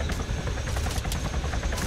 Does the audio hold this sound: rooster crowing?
no